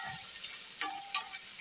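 Onions sizzling softly in a pan over low heat on a stovetop, caramelizing, with a steady faint hiss and one small clink partway through, no voices.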